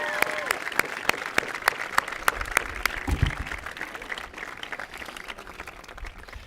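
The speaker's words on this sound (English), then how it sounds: "a round of applause" Graduation audience at a high school ceremony applauds, crisp nearby individual claps standing out over a softer crowd clapping that fades slightly toward the end.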